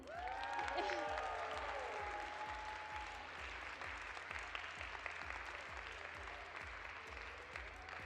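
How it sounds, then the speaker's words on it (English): Applause from a theater audience at a Pilipino Culture Night show, thanking the cast, directors, producers and choreographers; broad sustained clapping that swells early, then holds steady, with a voice briefly audible over it at the start. "Another round of applause for everyone."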